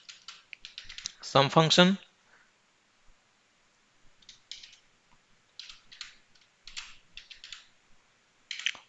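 Bursts of clicking on a computer keyboard, typing in short irregular runs, with someone speaking briefly near the start.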